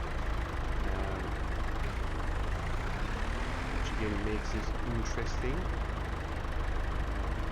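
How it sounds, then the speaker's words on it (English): A tractor engine idles in a farming video game, a steady low rumble that runs through the whole stretch beneath someone talking. "Probably easier actually just move the tractor"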